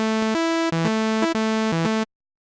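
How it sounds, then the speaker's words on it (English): A freshly inserted synthesizer plugin, not a preset, plays a loud, buzzy sustained tone that steps between a few pitches in a short repeating phrase, heard alone and cutting off abruptly after about two seconds. "This is the sound of the new plugin that I just inserted."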